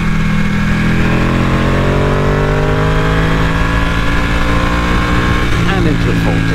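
A Ducati motorcycle is ridden on the road, its engine giving a loud, steady drone with rising and falling tones as it changes speed, mixed with constant wind rush.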